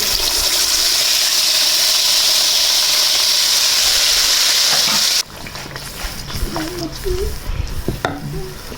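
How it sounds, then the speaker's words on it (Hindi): Freshly ground masala hits hot oil for aloo matar, a loud, steady, close sizzle hissing for about five seconds, then quieter frying and stirring with a voice speaking over it. "अब ये गरम गरम ऑयल के अंदर शामिल कर देंगे।"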